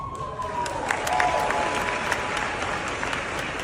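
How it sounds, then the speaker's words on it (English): A large TPUSA crowd boos Tucker Carlson's remarks in a loud, sustained wall of voices that fills the whole stretch without a break. "You could hear it in their overwhelming boos to what Tucker Carlson had to say."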